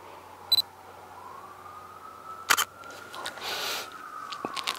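A camera set to f/5.6 at 1/250 s fires its shutter in a couple of sharp, close mechanical clicks, one early and a louder one midway, over a quiet indoor hum.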